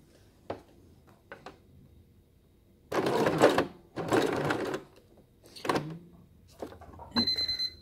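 Sewing machine slowly stitching through a thick fabric headband in short, separate bursts, about four runs of whirring broken by pauses and small clicks of handling, close and moderately loud.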